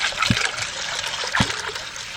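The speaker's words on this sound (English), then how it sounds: "Put some water in there." Water trickles and splashes into a cooking pot of peas, a steady close pour with two brief louder splashes, no talk.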